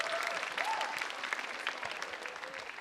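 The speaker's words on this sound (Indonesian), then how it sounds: "tepuk tangan dulu untuk Cibubur." A studio audience on an Indonesian TV show claps briskly in a dense, steady burst of applause, fairly loud and even, with no talk over it.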